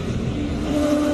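A Nissan 350Z fitted with an LS V8 engine runs at a hillclimb, heard as a steady, rumbling engine note that rises slightly in pitch near the end of this brief moment.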